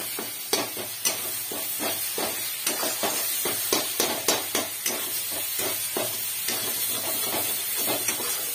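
Cumin and coriander spices fry in hot oil, a steady sizzle broken by a regular series of sharp scraping stirs as a spoon works the pan.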